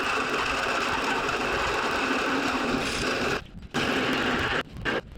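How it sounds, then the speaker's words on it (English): Power drill spinning a 35mm hole saw through a sailboat hull under restoration, a loud continuous grinding whine that cuts out briefly twice near the end. "I'm going to radius the corners with a 35mm hole saw"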